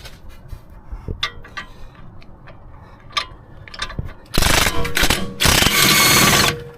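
A socket wrench fitted with a 19mm socket ratchets on bolts while removing a wheel bearing bracket from the knuckle of a Mercedes-Benz W212 E250 4matic, first as sparse close clicks, then two long, loud bursts of rapid ratcheting.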